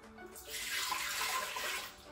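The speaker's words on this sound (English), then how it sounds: "Adding the water." Cold water poured into a crockpot pressure cooker fitted with a trivet, ready for steaming eggs; a steady splashing pour rises after a brief quiet start and runs evenly to the end, close and moderately loud.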